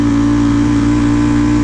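A 2018 Ducati Panigale V4 S motorcycle with a full Akrapovic exhaust, in race mode, holds a loud, steady, strongly tonal engine drone throughout, close and unbroken.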